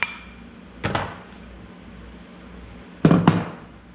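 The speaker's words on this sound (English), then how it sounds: "Using the rawhide mallet to work this a little bit." A rawhide mallet taps a metal bezel setting in jewelry work: two pairs of sharp, close knocks, a quick double tap and then a louder double tap a couple of seconds later.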